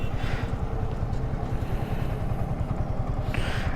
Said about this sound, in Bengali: তিনে বাইক চলতেছে বাইকের স্পিড হচ্ছে ইলেভেন টেন